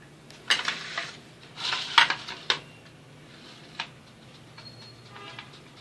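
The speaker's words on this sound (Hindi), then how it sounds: "और अब मैं आलू को ग्रेट कर लूंगी।" Boiled potatoes are grated for aloo kabab, with several short scraping strokes and metallic clinks against the grater in quick succession, then a few softer scrapes and taps.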